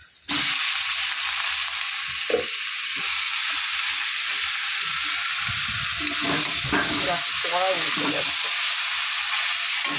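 Fish dropped into hot oil in a pan bursts into loud, continuous sizzling that fills the whole stretch after a brief quiet start, close up, with occasional stirring scrapes underneath.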